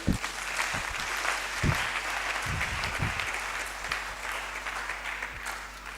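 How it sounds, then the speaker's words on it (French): A church congregation claps steadily and warmly, a sustained wash of applause with a few louder individual claps near the start. "Est-ce qu'on peut applaudir le Seigneur?"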